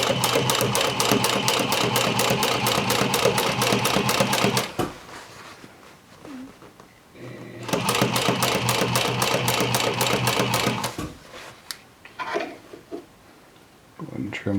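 A sewing machine stitches denim for jeans in rapid, even bursts, running loudly for a few seconds, pausing, then running again, with quiet gaps and small handling clicks between runs.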